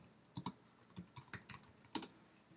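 Short bursts of typing on a computer keyboard, several separate clicks and keystroke clusters spaced irregularly over a couple of seconds, faint and close with no talking.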